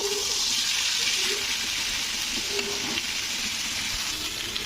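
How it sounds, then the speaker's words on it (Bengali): Steady sizzling of vegetables, including eggplant, frying in a pan, a continuous hiss with occasional faint clinks, no voices. "এবারে এগুলোকে আমি একটু ভেজে নেব"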